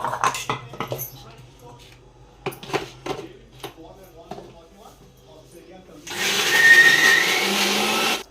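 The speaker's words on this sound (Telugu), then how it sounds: "ఇంక మిక్సీకి అయితే పట్టేసుకుంటున్నాను నేను" A kitchen mixer grinder purees tamarind pulp in a loud, steady whir for about two seconds at the end, after clinks of a steel jar and lid being handled.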